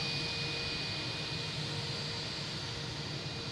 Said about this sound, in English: the Athens flight just took off